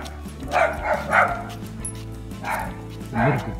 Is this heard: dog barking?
yes